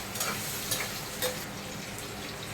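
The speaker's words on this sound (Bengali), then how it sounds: "এরপর ভেজে নেবো টমেটো, কাঁচা লঙ্কা, পেঁয়াজ।" Tomato, green chili and onion frying in a pan for a Bengali rohu fish curry, giving a steady close sizzle with a few sharper crackles and spatters, and no voices.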